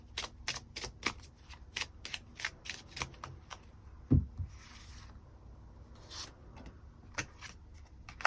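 Tarot cards are shuffled and drawn by hand in a quiet room, making a rapid series of close, crisp flicks and slaps with a soft thump midway and a brief riffle afterwards.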